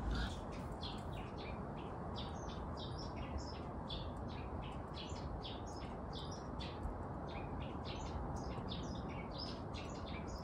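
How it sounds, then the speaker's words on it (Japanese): Many birds chirp and tweet continuously over steady background noise, bright overlapping calls filling the whole stretch. "すごい鳥が鳴いてる"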